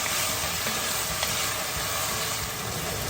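Lasagna filling sizzles loudly in a hot pan with a pinch of salt as it is stirred, producing a continuous close frying hiss with faint scraping underneath and no voices.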